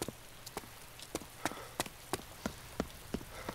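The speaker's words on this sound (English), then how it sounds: "It just started drizzling for me." Light rain in the game DayZ, set in a ruined urban Fallujah map, falls as a faint steady hiss with sparse, quiet drop taps landing at irregular intervals, heard alone.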